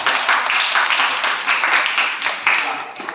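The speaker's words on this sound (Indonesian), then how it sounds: "beri aplaus" Classroom audience clapping in applause after a student group finishes its presentation, a steady dense patter of many hands lasting the whole stretch, fairly loud and close.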